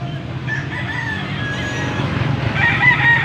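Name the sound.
rooster crowing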